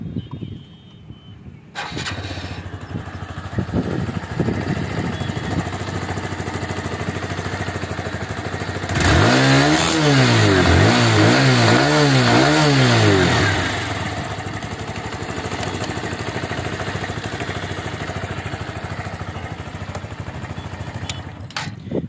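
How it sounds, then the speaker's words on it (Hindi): A TVS Sport 110cc motorcycle engine with about 20,000 km on it starts and idles with a steady putter, revving up several times in the middle before settling back to a quiet idle. "एक बार इंजन का साउंड भी आपको सुना देते हैं"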